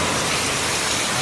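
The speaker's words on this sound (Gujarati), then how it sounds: "અડધા કલાકથી ફૂલ વરસાદ છે." Heavy unseasonal rain pours down in a Gujarati village during a storm, a loud, dense, unbroken roar of water close by.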